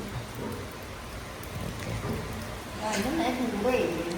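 Rain pours into an open central courtyard of a house, a steady broadband patter that swells louder toward the end, with a voice talking faintly under it.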